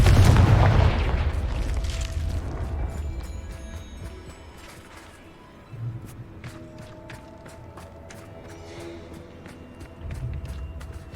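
A Confringo blasting curse in Hogwarts Legacy bursts with a heavy boom at the start, then rumbles and fades into scattered thuds and footsteps, with a second softer boom later.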